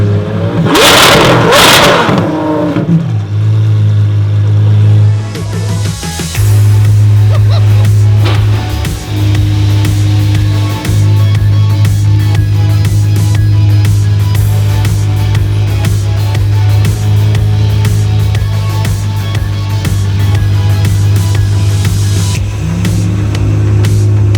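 Apollo IE hypercar engine revving at close range, opening with a sharp roaring blip, then settling into a loud sustained drone with repeated throttle swells and dips, very loud and continuous with no speech.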